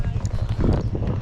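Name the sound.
Tennessee Walking Horse hooves clip-clopping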